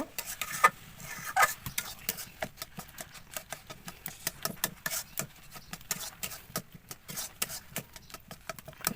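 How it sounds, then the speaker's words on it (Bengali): Raw mangoes boiling in a pot are stirred with a utensil, giving a steady run of close, irregular scraping and clinking strokes over a low bubbling background, with no talk. "এখন আমি আরেকটু নেড়ে চেড়ে আমগুলো আরেকটু সিদ্ধ করে নেব"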